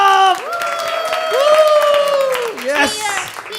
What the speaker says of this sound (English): Please welcome with a huge round of applause, Sumit Saurabh.